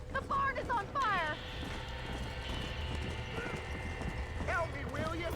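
Horses neighing and whinnying with clattering hoof clip-clops inside a burning barn in the Red Dead Redemption video game, several loud whinnies near the start and end over a steady crackling roar.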